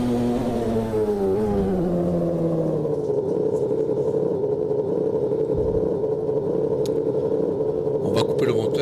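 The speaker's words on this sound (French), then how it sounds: "On va couper le moteur parce que sinon ça ne tient plus." Historic McLaren race car engine in the Automobilista 2 racing game, a steady mid-pitched drone whose tone slides down early on before settling into an even hum, with someone talking over it.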